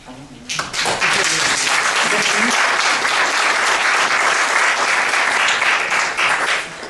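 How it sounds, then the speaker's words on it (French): Loud applause fills a university hall at UPVD as the crowd welcomes the writer Michel Butor, a voice briefly audible at the start before thick, sustained clapping takes over and continues evenly to the end. "Et on peut l'applaudir"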